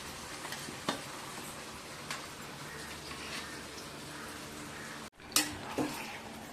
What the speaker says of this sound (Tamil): கறி நல்லா வதங்குற அளவுக்கு நல்லா கிளறி மேலும் கீழே வர வச்சு நல்லா வதக்கிக்கலாம்.